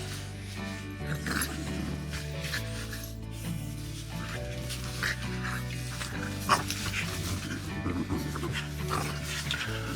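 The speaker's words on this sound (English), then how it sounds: "Frenchie fights are awesome, especially when puppies are involved." French bulldog puppies play-fight outdoors at an overland campsite, with snuffling, rubbing and small yips and grunts over steady low music, continuous and close.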